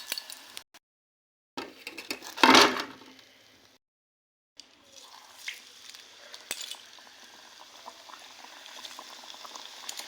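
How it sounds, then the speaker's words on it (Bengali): Puli pitha, filled dumplings, deep fry in hot oil, a close bubbling sizzle broken by silent gaps and a brief louder burst of spattering, then a steady softer fizz. "এই দুটো করে ভেজে নিচ্ছি।"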